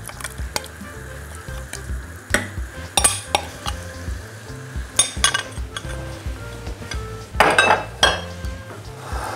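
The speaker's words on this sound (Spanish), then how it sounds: "Removemos un poquito." A utensil stirs a milk, cornstarch and egg mixture for flan in a pot, with irregular scraping and clinking against the sides and a few sharper knocks, close and alone without talk.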